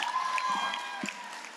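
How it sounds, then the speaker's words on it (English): Crowd at a youth center parent night breaks into cheering and clapping, a lively burst of applause with shouts and whoops carrying through the whole short moment. "Let's give him a big round of applause."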